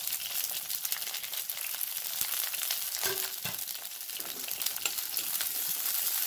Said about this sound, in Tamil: எல்லாத்தையும் வதக்கலாம்.